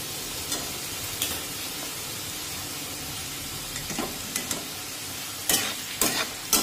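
Finely chopped onions fry and hiss in a pan for a dried-fish chutney, a steady close sizzle with scattered stirring scrapes that grow louder and sharper near the end.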